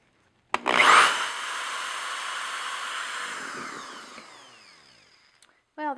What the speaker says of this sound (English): we're going to drill 2 little holes where we want our button